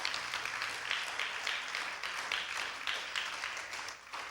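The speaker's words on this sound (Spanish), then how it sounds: "Si le vas a dar ese aplauso, dáselo bien fuerte para nuestro Dios" A church congregation applauds during a sermon on 1 Thessalonians, giving a continuous wash of hand clapping that rises and falls slightly and sounds somewhat distant and moderately soft.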